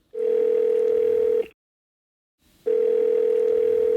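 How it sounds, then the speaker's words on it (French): A steady telephone dial tone on a line being called for a radio interview, one long continuous tone that cuts off into about a second of silence and then resumes, clear and alone. "Et maintenant, nous allons joindre au téléphone Monsieur Koatalem, qui est en ce moment même à Paris"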